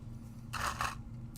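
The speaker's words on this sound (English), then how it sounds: "let's hit this with a little bit of pixie spray" Pixie spray misted over a craft piece in two quick bursts around the middle, with a short third puff at the end, close and fairly soft against a quiet room.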